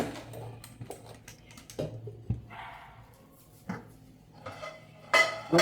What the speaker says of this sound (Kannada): ಒಳ್ಳೆ ಮೇಲೆ ಕುಕ್ಕರ್ ಇಡ್ತಾ ಇದ್ದೀನಿ.